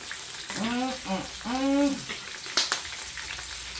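Pork chops fry in a pan with a steady, close sizzle. A voice briefly rises over the crackle partway through.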